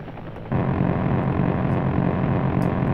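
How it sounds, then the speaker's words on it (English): Helicopter rotors thump steadily in the air combat video game Heliborne, a continuous loud chopping drone that swells after a brief quieter start, with no talk. "Helicopter air combat's fun."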